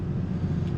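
BMW M3 Competition on a winding mountain road, steady low engine and road rumble from inside the cabin, continuous and fairly loud with no voices.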